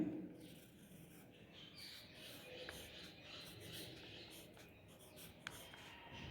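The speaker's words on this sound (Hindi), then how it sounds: "अब हम लिखेंगे व्यंजन।" Hindi consonants are written by hand, the pen or pencil making a soft, steady scratching and rubbing on paper, very faint and close, continuous with small taps, no voices.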